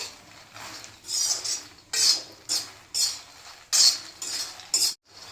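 Makhana (fox nuts) being stirred as they roast in a pan, producing repeated bursts of scraping and rattling as a spoon pushes them around, each stroke loud and close with short gaps between.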